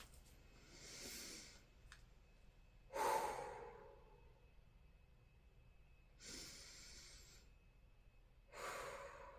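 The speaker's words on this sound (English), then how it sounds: "Let's take some breaths." A person takes slow, deep breaths close to the microphone, four long airy inhales and exhales spaced a few seconds apart in a quiet room.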